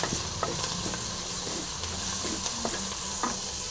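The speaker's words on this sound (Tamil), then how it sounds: "இப்போ நல்லா ஃப்ரை ஆகட்டும்" Green peas masala frying in a pan, a steady close sizzle and hiss with occasional soft scraping stirs, fairly quiet and continuous, no talking.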